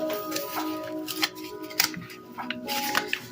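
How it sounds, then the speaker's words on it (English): Paper page torn out of a handmade busy book for a patchwork envelope journal page, a few sharp crackling rips and rustles in short bursts, close and fairly quiet, with no talking. "let's rip a page out of my busy book"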